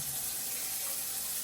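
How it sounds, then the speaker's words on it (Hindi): Water runs steadily from a household tap into a sink, a close, even hiss that continues without a break and with no one talking. "ये पानी बंद कर दो ना अगर आपको नहीं चाहिए तो"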